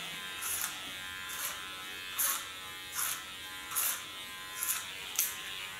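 An electric hair clipper cutting an ultra-short pixie haircut, giving a steady faint hum broken by seven short, evenly spaced buzzing passes as the blade runs through the hair.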